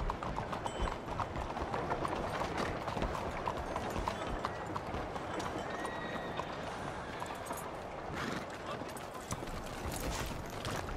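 Horse hooves clip-clop in a steady walking rhythm throughout in Red Dead Redemption 2, with tack jingling and faint background ambience, moderately close and fairly quiet.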